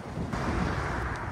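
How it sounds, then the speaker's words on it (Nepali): Wind blows outdoors on a rainy day in Japan, a brief, steady rushing gust buffeting the microphone with no voices. "हावा चलिरहेको छ"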